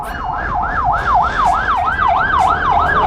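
An ambulance siren wails in a rapid, repeating rise-and-fall pattern, loud and close behind a vehicle on a Cebu street, with road noise underneath.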